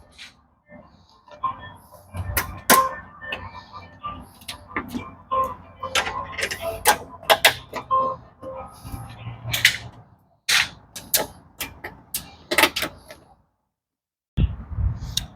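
Plastic rivet clips being pried off one after another with a flathead screwdriver on a 2004 fourth-generation Toyota 4Runner during headlight removal, giving sharp irregular clicks and snaps, close by, with brief pauses between.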